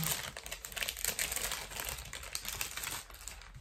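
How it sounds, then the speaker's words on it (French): Small packaging crinkles and rustles continuously, close and fairly quiet, as items are tucked back inside after an Advent calendar unboxing. "je vous remets tout dans le petit emballage"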